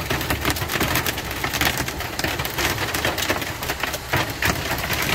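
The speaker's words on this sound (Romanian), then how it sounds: "Și ca în senin, a început o ploaie" Heavy rain pours down steadily over a parking lot of uncovered cars near Lyon, with hard pellets of hail clattering and ticking against surfaces in a dense, constant roar; no voices.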